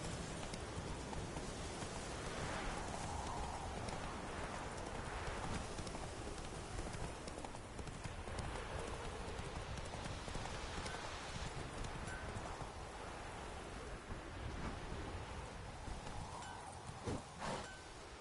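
Roach, a horse in the Witcher 3 video game, gallops through rain with steady clip-clop hoofbeats over a dense wash of rainfall, continuous and close for the whole stretch, with no talking.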